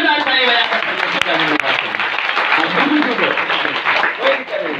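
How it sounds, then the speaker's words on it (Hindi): An audience claps loudly and continuously at a religious healing gathering, dense steady applause filling the room, with a voice speaking over it. "इसलिए जोरदार ताली बजा कर"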